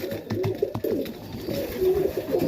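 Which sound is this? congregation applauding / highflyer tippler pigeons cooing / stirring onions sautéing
highflyer tippler pigeons cooing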